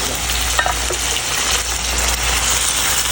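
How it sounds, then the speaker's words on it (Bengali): Hilsa fish frying in a pan for pulao, a steady loud sizzle with faint stirring scrapes, continuous throughout. "ইলিশ মাছটা কিনে হাফ কুক করে নেব"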